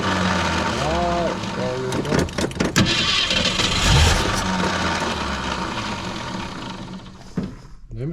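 A 1964 Ford Fairlane V8, abandoned for 29 years, cranks and briefly catches in a burst of rough firing, loud and close, then settles into a sustained engine roar while people talk over it.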